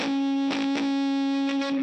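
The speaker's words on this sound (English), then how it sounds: "Another thing as well is this harmonic right here." A single sustained electric guitar harmonic rings through a ProCo RAT distortion pedal, a bright steady overdriven tone with a few faint pick or string noises flickering across it.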